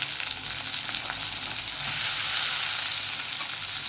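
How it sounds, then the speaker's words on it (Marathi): Tomatoes hit frying onions in a pan for a dried-prawn masala, a loud steady hiss that swells in the second half, close and with no talking. "कांदा परतून झालेला आहे. मी आता टोमॅटो घालते."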